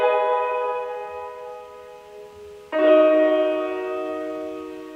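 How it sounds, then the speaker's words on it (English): Arpeggiated synth chords from a chill beat made in Logic Pro X, sustained and bell-like with a shimmering tone, played alone as one chord rings and a second, louder chord enters partway through. "I replayed 2 of the chords there, and I kind of like arpeggiated them a little bit"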